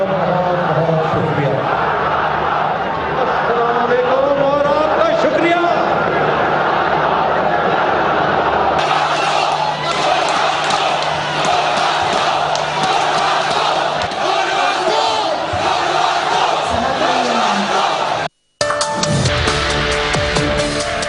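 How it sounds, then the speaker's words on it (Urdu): A huge stadium crowd at the PSL cricket final roars and chants slogans, a loud, dense, continuous wall of voices that swells and carries on with little break. "اسٹیڈیم میں بھرپور نعرے گونجے"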